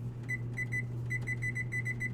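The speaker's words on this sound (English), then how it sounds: "Oh, I gotta put a timer on, by the way." Electronic kitchen timer beeping in a home kitchen while cocktail weenies are prepared in a crock pot, giving repeated short high double beeps in an irregular series over a steady low hum.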